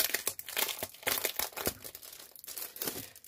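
Plastic wrapping on a scrapbooking paper pad being opened by hand, close and fairly quiet, with a steady run of sharp crinkles and rustles coming in irregular bursts.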